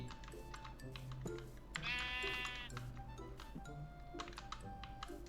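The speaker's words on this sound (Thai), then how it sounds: "เราได้สัตว์สเปชี่หายากมาแล้วนะครับ ก็คือ แกะสีชมพูนั่นเอง" A pink sheep in Minecraft lets out one wavering bleat midway, surrounded by rapid clicking like keyboard typing and a low background hum.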